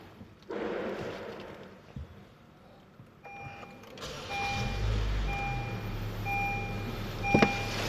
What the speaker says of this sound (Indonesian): Selanjutnya kita hidupkan mesinnya.